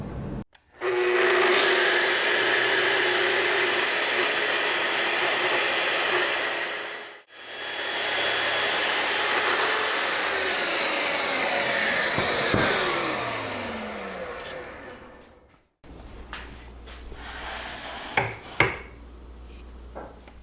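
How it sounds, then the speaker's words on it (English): A track saw rips through a plywood sheet in a workshop, giving two long, loud, steady whining cuts separated by brief pauses, then the motor spins down and quieter handling clatter follows. "I'm going to be using a track saw to do this"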